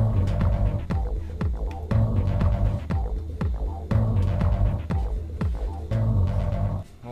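An impact wrench hammers towbar nuts on a Fiat X250 camper, repeated rattling bursts of about a second each with a throbbing mechanical pulse, loud and close.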